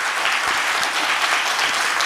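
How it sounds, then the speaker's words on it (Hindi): A large crowd, mostly women, gives loud, continuous applause at a Hindi poetry reading, a thick, unbroken wall of clapping from start to finish. "एक बार ज़ोरदार तालियों के साथ।"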